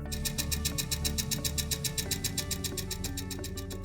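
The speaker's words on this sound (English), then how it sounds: "you may hear a ticking noise caused by the LEV known as the liquid expansion valve" Rapid steady ticking from the liquid expansion valve of an LG washer-dryer combo, about five clicks per second, runs over a low mechanical hum and whirring, close and moderately loud, no voices.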